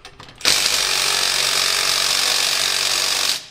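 A Milwaukee M12 3/8-inch stubby impact wrench breaks loose over-torqued nuts with one loud, continuous hammering burst lasting about three seconds, close up and with no talking.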